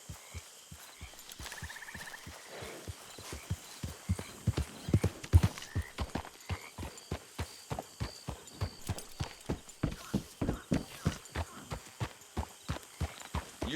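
A horse's hooves clip-clop in Red Dead Redemption 2, a steady rhythmic trot of sharp, evenly spaced hoof strikes that starts faint and grows louder and closer. A brief whinny is heard early on, and there is no talk.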